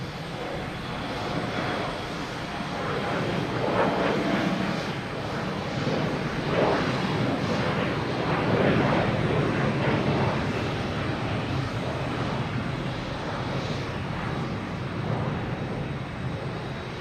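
An airliner heading out to the runways at Boston Logan Airport at night, a distant, steady jet engine roar that swells and fades slightly over a long stretch without voices.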